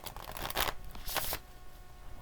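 Tarot cards shuffled by hand at close range, two distinct riffling bursts of papery flutter over a soft background hiss.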